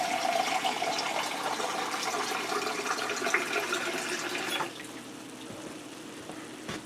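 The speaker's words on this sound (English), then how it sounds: "put a can of water in." Water from an emptied crushed-tomato can poured into a skillet for one-pot spaghetti, a steady close splashing pour lasting several seconds, then cutting off into quieter kitchen background.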